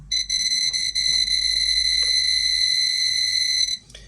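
A Jupiter SIM05 dosimeter held near a radiation source emits a continuous high electronic tone with brief dropouts, then cuts off near the end.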